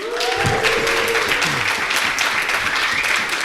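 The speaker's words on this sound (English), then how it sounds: "That's like 3 rounds of applause before we even started." An audience applauds at a live centenary podcast recording, a dense, sustained burst of many hands clapping that fills the room, with a brief voice faintly audible underneath near the start.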